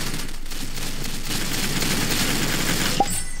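Gunfire rattles continuously in a shooting video game, a dense, steady barrage of rapid shots that stays loud and close for the whole moment, with a brief bright tone near the end and no talk.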